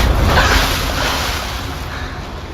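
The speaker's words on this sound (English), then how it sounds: "The violent wave hit, sweeping me away, carrying me back through the maze of tunnels." A violent rush of floodwater in the video game Little Nightmares 3, a loud, broad surging roar that slowly eases off, with no voices.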